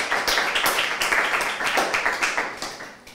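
A seminar audience claps after a research talk, a brisk burst of applause from a modest group in a room, loud at first and then tapering off toward the end.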